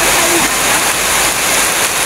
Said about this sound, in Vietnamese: Mưa nè cả nhà, mình đang đứng dành mưa.